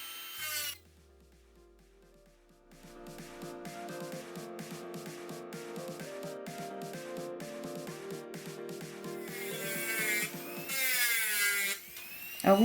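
A Kemmer power sander whirs steadily with rough grinding and scraping against rhinestones, sustained for several seconds after a brief quiet start, close and fairly loud.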